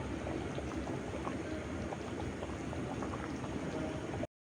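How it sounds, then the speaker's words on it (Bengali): Hilsa fish curry in mustard oil with green chilies simmering in a pot, giving a steady, soft bubbling that runs continuously at low level and then cuts off abruptly. "এদিকে ইলিশ মাছের তেল ঝোল রান্না হচ্ছে"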